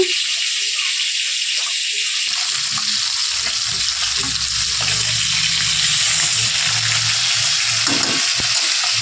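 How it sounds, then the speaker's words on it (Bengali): Bhola fish frying in a pan of hot oil with cumin and green chillies, a loud steady sizzle and crackle throughout with occasional soft stirring scrapes, no talk. "মাছটা ভাজা হয়ে যাক।"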